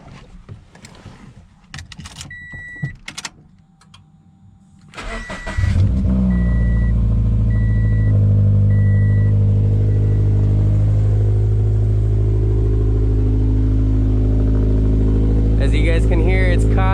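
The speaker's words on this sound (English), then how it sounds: "So previous owner, instead of getting a full cat back, just did a muffler delete. So it's really loud." A car with a muffler delete cranks to life partway through after a few quiet cabin clicks and electronic chimes, then settles into a loud, deep, droning idle that stays steady to the end.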